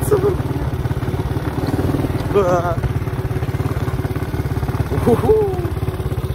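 A 125cc quad bike engine pulls away in first gear with a steady, close, throbbing mechanical drone and some clatter throughout, while a man lets out a brief excited whoop over it.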